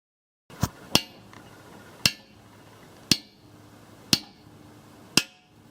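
Six sharp metallic hammer strikes, each ringing briefly, spaced about a second apart, as a custom bushing installer drives a bushing into a 1964 Impala's Powerglide transmission during an overhaul; close and clear with no talking.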